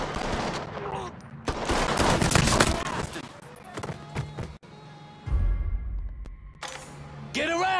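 Gunfire in a Mafia III shootout: dense bursts of shots and impacts mixed with game music and effects, with shouted character dialogue throughout.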